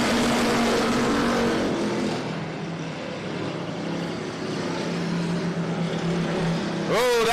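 Race cars roar around the oval at I-37 Speedway, a steady, loud engine drone that rises and falls as they run side by side, with an announcer's commentary over it.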